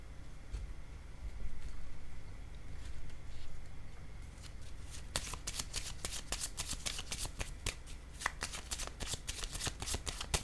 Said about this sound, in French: j'ai besoin de déposer une carte